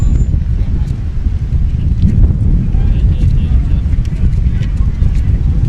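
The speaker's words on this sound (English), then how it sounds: "Getting awful windy. Yeah, it's starting to try to move me. That's a pretty stiff breeze." Strong wind at a baseball game buffets the microphone with a constant low roar and rumble, loud and unbroken throughout.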